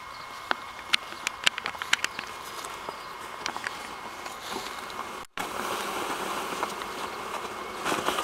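A swarm of honey bees, the ones that settled in a pear tree, drones in a dense, continuous buzz, with scattered ticks and taps from nearby handling, briefly cut by a moment of silence.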